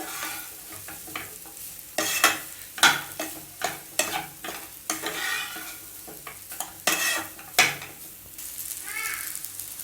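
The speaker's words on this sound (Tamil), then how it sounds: "ரைஸ் போட்டு நல்லா கிளறி விடுங்க" Paneer fried rice is stirred and tossed in a hot pan, with a constant sizzle and a rapid, irregular run of scraping and clattering spoon strokes. It is close and fairly loud, and no one speaks.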